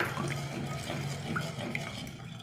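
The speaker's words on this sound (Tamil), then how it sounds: "இதை வந்து நம்ம இதில் ஊற்றிக்கணும், கிளாஸில் ஊற்றிக்கணும்" Ragi porridge mixed with curd is poured into a glass, a soft, close, brief liquid trickle and splash at low volume, with no talking.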